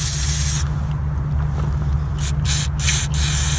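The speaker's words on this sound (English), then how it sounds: "I just want to spray a little bit just to clean it out in there" WD-40 sprayed in short bursts into the clogged pump of a paint sprayer, a broad aerosol hiss that pauses and restarts several times over a steady low motor hum, close and fairly loud.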